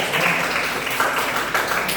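Applause from a classroom audience during a lesson on diversity, a dense steady clapping wash lasting about two seconds, fairly close and even in level.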